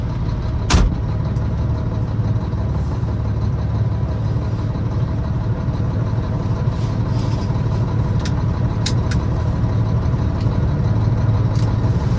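A Mack RD688S truck engine idles steadily and loud up close, a constant low diesel rumble with a couple of sharp clicks and brief metallic ticks over the top.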